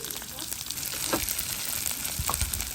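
Onion, garlic and curry leaves fry in hot oil for a Jaffna-style sambal, a steady close sizzle broken by occasional stirring scrapes.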